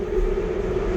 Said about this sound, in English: hold on, let this train go by.